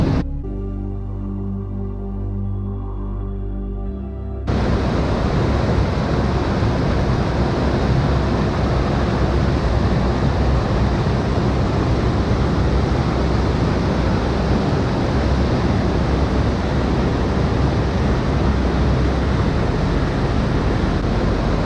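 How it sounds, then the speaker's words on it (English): Lower Alpine Falls, a roadside waterfall on the Mountain Loop Highway in Washington, roars as a loud, dense, continuous wash of falling water, close and unbroken after a quieter opening. "Another breathtaking waterfall right off the roadside."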